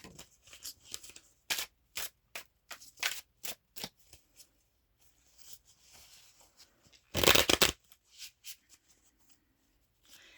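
Tarot cards shuffled by hand in quick, crisp riffles and flicks, close and fairly quiet, with a longer louder shuffle burst near the end and short pauses between bursts.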